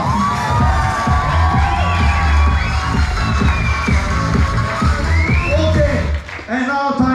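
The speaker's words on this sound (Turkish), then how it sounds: "applause, applaudissements, alkış for Seva" A holiday-resort crowd at a hotel beauty-contest evening cheers, whoops and shouts for a contestant, loud and continuous with children's voices and music-like tones mixed in, dropping briefly near the end.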